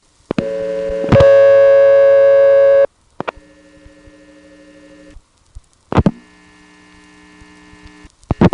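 A telephone line is heard while calling Goddard College in 1970s Vermont. Loud, sustained steady tones come in bursts with clicks between them, a mechanical line signal rather than a bell, heard alone without talk.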